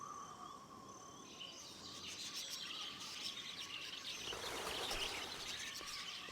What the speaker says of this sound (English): The night is here. The Isle birds are calling. Something's got them agitated.